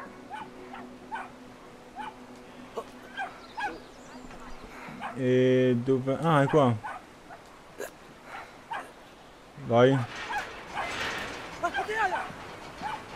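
Dogs bark in the video game Brothers: A Tale of Two Sons, in two loud bursts of repeated barking mid-clip, with a player talking over the game sounds.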